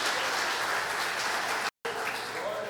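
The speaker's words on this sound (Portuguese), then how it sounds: "Vamos aplaudir o Senhor?" A church congregation applauding during an online Bible school service, a steady wash of clapping with a brief dropout near the end before it resumes, fairly quiet and distant.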